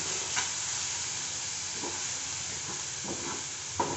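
Ground masala paste is sautéed in a pan, giving a continuous hissing sizzle with occasional soft scrapes of stirring.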